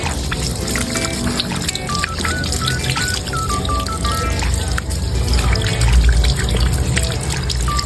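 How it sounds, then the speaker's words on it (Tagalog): Tap water running steadily while hands are rinsed under it, a continuous close splashing pour with irregular trickles and drips, no talking. "Step 7, banlawan ng maayos ang mga kamay."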